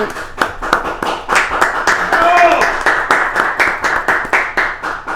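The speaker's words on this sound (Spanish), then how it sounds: "recibimos con un fuerte aplauso" Live audience applause at a political talk show welcoming a lawyer and political analyst, a steady stream of sharp hand claps filling the whole stretch, loud and close, with the crowd's clapping rippling in uneven bursts.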